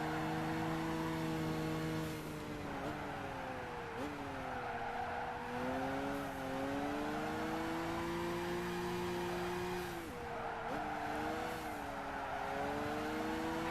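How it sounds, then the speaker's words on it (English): Car tires squeal continuously in Gran Turismo 5 during a Japanese 80s festival race, wavering shrieks riding over a steady engine drone as the car slides through corners. "Hear all the tires squealing."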